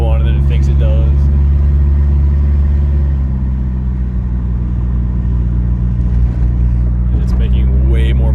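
A turbocharged Dodge Daytona, converted from throttle-body injection and running a bigger turbo than its tune expects, pulls hard at about 10 pounds of boost; its loud, steady low engine drone and road rumble fill the cabin throughout.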